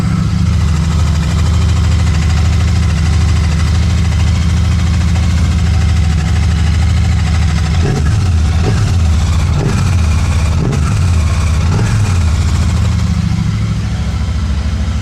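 Close to the intake, a Royal Enfield Super Meteor 650 twin fitted with a DNA high-performance air filter idles with a loud, steady low throb, then gets several short blips of revs before settling back.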